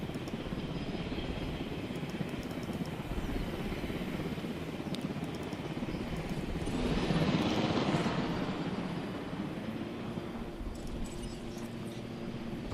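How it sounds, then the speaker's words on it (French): A helicopter in the video game Jurassic World Evolution whirs with a continuous rotor drone that swells louder around the middle and then eases back, steady and mid-distance, no talking. "Va falloir chercher le prochain hélicoptère."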